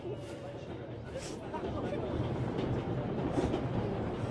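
A train rolls along in the video game 11-11: Memories Retold, a low, steady rumble of wheels and cars that runs throughout beneath a voice speaking.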